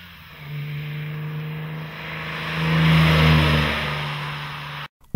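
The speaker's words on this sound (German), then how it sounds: "Spätestens wenn der kraftvolle Motor gestartet wird" A Fiat Dino V6 engine runs with a steady low rumble, then revs up loudly to a peak before settling, cutting off abruptly near the end.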